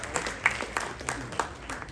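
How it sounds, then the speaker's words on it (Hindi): Applause from a summit audience welcoming a guest, a dense patter of many hands clapping at moderate distance, fairly quiet and steady across the moment with a few louder claps standing out. "जोरदार तालियों से अभिनंदन हो"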